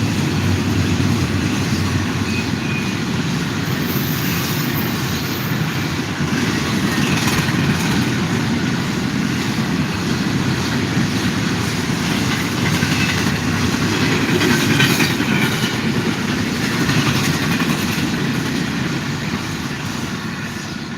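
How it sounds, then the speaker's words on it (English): Freight trains passing close by in a continuous loud rumble, with wheels rolling and clattering steadily over the rails the whole time and no voices. "Yeah, these are freight trains."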